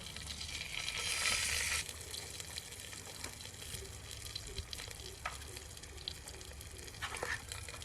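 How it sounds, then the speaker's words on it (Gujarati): Asafoetida, curry leaves and bay leaf hit hot oil in a village kitchen, a sharp burst of sizzling that settles into a softer steady crackle with small pops and clinks, no talking. "અને હિંગ નાખી દઈ થોડી અને મીઠો લીમડો છે અને તમાલપત્ર"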